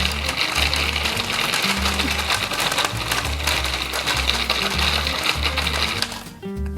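KitchenAid food processor chopping bread into crumbs, loud rhythmic pulsing whir with repeated short bursts and chunks knocking inside the bowl, stopping near the end.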